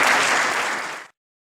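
An audience at a regional league's annual general assembly breaks into applause after an election result, with a full, even burst of clapping that fades and cuts off abruptly after about a second.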